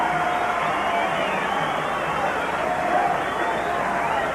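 Boxing crowd at the Larry Holmes vs. Michael Spinks heavyweight title rematch, a steady dense roar of cheering and chatter filling the arena for the challenger's entrance, continuous and loud throughout.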